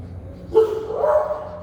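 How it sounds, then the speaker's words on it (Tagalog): A single sharp dog bark nearby, followed by a whiny, drawn-out growling yelp, with faint background noise. "Nagagalit yung aso dito sa bahay kasi katakas na."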